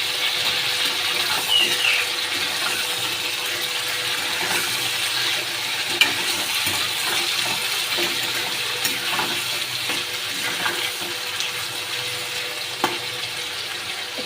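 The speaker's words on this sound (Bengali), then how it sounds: "এবার আমি মাংসটা দিয়ে ভেজে নেব।" Chicken pieces sizzle and fry with browned onions in a pan, a steady hissing crackle with faint water-like sputtering, close and continuous with no talking.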